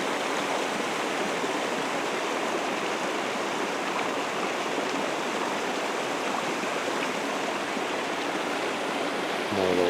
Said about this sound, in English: a little stream dumping down into the river